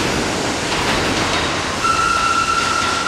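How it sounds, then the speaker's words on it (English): A subway train with worn brakes rumbling and rattling on its rails, with a sustained high-pitched brake squeal rising out of the noise partway through and holding steadily, loud and close as if heard from inside the car. "This train needs some new brakes."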